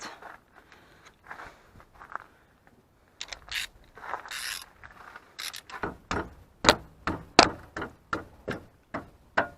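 A ratchet wrench with an 18 mm socket loosening a tightly fastened front brake caliper bracket on a Renault Mégane 3, first in hesitant clicks and then in a quickening run of loud, close ratcheting strokes.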